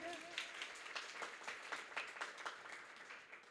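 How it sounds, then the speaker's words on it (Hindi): Audience at a Hindi poetry recital clapping in scattered, uneven bursts, moderately distant, with a voice briefly audible at the start. "एक बार ताली बजा के विदा करिए।"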